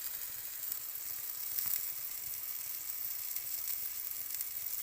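Gozleme fries in a pan with a continuous, close, crackling sizzle that holds steady for several seconds, a few brighter pops rising now and then, with no talking.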